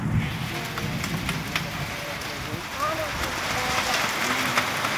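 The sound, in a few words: heavy rain falling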